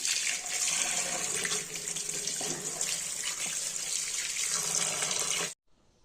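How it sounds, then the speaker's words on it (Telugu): Chicken being washed under a running kitchen tap in a colander with holes, a steady loud splash of water that cuts off abruptly near the end. "ఇలా హోల్స్ ఉండే పాత్ర తీసుకుంటే కడిగి పెట్టుకోవడానికి ఈజీగా ఉంటుంది."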